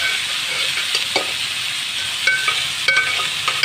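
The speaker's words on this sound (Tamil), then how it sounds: "கொத்தவரங்காய் எடுத்து கொட்டி நல்லா கலவி விடுங்க" Cluster beans with tomato being stirred in a hot frying pan, a steady loud sizzle broken by a few scraping stir strokes near the end, with no voices.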